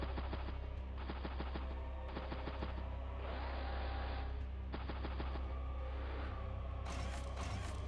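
In Advance Wars: Days of Ruin, a gunboat attacks a submarine with rapid bursts of machine-gun fire in repeated blocks, mixed with mechanical rattling and a steady low hum, fairly loud and with no voice.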